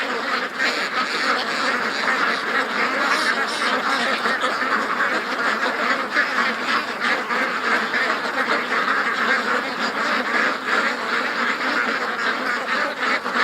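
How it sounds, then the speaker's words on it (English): Ducks quack steadily and loudly throughout, a dense flock calling close by with overlapping honking voices. "Come on, duckies, get going."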